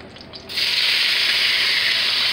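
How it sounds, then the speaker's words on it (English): Peppers being seared in a pan at home, a steady loud hiss that rises abruptly after a short quiet moment and holds evenly to the end, with no talking. "I'm gonna sear these peppers up real"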